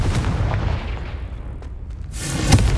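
A Confringo fire-blast spell from Hogwarts Legacy goes off in a loud, rumbling boom that decays over a couple of seconds, followed by a bright crackling burst near the end.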